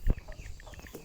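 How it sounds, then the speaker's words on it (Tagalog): A flock of chickens clucking and calling in a farmyard, a short burst of overlapping clucks with a louder thump near the start, fairly close and moderately loud. "Yan, daming manok."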